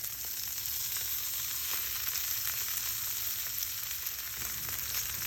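Steak for bistecca Florentine sizzling steadily in a hot pan, a continuous close crackling hiss with no voices, holding an even level throughout.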